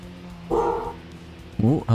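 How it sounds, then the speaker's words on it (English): A dog in the Tokyo Xtreme Racer 2025 racing game, near a parking area, gives a couple of short, close barks. One comes alone and another follows about a second later, mixed with a human voice. "Oh, hello dog."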